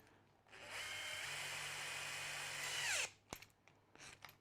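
A power drill bores a hole through the top of a Stanton bench, running steadily for about two and a half seconds before winding down, followed by a few short knocks and handling sounds.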